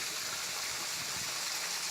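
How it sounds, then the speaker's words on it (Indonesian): Small waterfall on a mountain slope of Mount Sunda, a steady broadband rush of falling water heard continuously at moderate distance, with no voices over it. "Ini air terjun."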